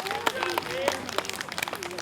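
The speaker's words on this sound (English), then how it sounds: "give Caden a round of applause for knowing that" Children at a DNR story time give scattered, uneven claps for a classmate, with sharp individual hand slaps popping up under an adult's continuing speech.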